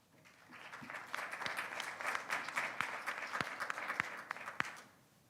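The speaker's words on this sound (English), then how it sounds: "he wasn't going to get applause, but when it happened, he got a little smile" Audience applause at a launch event on election integrity guidelines, swelling quickly into dense, sustained clapping with sharp individual claps, then fading away at the end.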